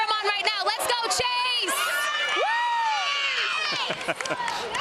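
Crowd of fans cheering and whooping for the pitcher at a Little League World Series game between West Chester, PA and Bayonne, NJ, loud continuous shouts and high children's yells with chatter mixed in.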